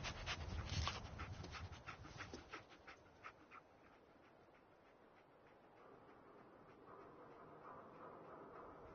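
Dogmeat, the dog companion in the video game Fallout 4, pants in quick rhythmic breaths, loudest at the start and fading into a low steady game ambience, with no talking.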